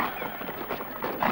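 A horse in a stable whinnies amid shuffling and hoof sounds, the neigh moderately loud and close against a noisy, busy background.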